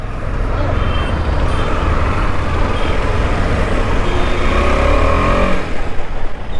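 A 2023 KTM 250 Adventure BS6 motorcycle engine revs in first gear, a steady, loud, close drone lasting several seconds with a slight rise toward the end, with no talking over it.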